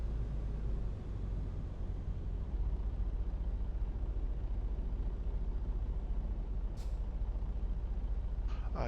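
Air brakes on a heavy truck in American Truck Simulator, a steady low engine rumble running throughout with a short hiss of air release near the end.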